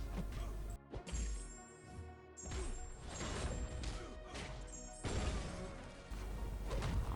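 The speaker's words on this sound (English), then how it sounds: "I'm just using Colossus and hitting into him" Colossus landing heavy punches on an opponent in Marvel Contest of Champions, a steady run of loud smashing and thudding blows with game music underneath.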